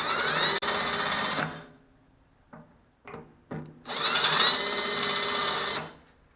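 A power drill bores a pilot hole in two loud, high-pitched whining bursts with a few short clunks and scrapes between them, close by and with no talking.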